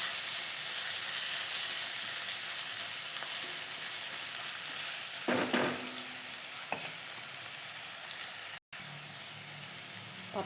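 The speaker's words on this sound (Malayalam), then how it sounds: "ഇപ്പോൾ ഇതാ സവാള ഏകദേശം വഴന്ന് വന്നിട്ടുണ്ട്." Chopped onions with green chillies sauté in a pan for a vegetable kurma, giving a steady, close sizzle throughout with occasional scraping stirs and a brief clatter near the end.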